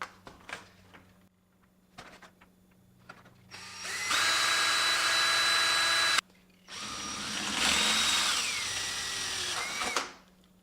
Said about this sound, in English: Am I going to drill it at a weird angle because I can't be bothered holding it?